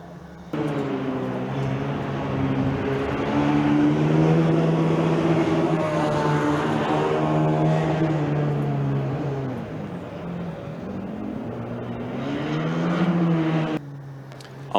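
Formula Student race car at the Formula Student Germany endurance event, passing on the back straight: a loud, sustained engine drone with rising and falling pitch as it accelerates and eases off, continuous for most of the stretch.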